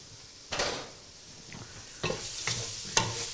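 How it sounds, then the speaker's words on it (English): Onions cook in a pan over turned-down heat, giving a soft steady sizzle broken by a few sharp utensil scrapes and stirs, close and moderately quiet, with no talking. "we're just going to turn that down so that our onions can cook but not burn"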